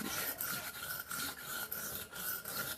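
A knife is drawn across a whetstone in quick repeated rasping strokes, about eight of them in a steady back-and-forth rhythm, close and fairly quiet.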